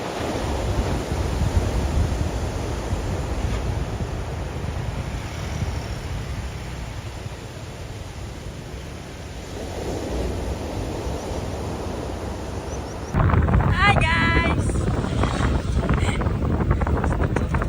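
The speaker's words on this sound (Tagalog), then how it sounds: "Oh, laki na alon, ha?" Continuous roar of large ocean waves breaking and washing ashore at sunset in Taiwan, with gusty wind buffeting the microphone, growing rougher near the end.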